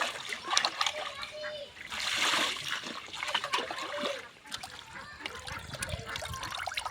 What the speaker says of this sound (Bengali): এই মাছ তো একবার ধুলে হবে না,